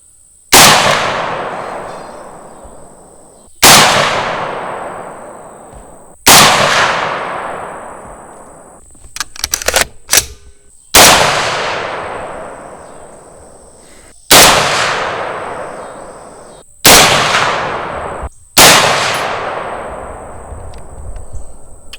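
Heckler & Koch MR762 LRP rifle fired outdoors, seven loud sharp shots spaced a few seconds apart, each with a long fading echo, and a burst of metallic rattling and clicks between the third and fourth shots.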